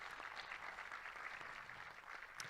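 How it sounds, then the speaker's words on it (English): Faint, distant audience applause, a continuous soft patter of many hands clapping at a steady low level throughout. "let's give him a big round of applause"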